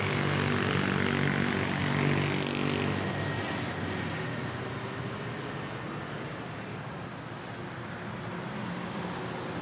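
A Philippine Airlines airliner, flight PR212 from Sydney, arrives at Manila Airport, its engine roar broad and steady, loudest at first and then easing slightly into a sustained distant rumble, with no voices.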